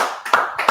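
Two sharp, loud hand claps, close up, spaced about a third of a second apart.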